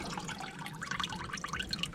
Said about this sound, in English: I'm just running some water through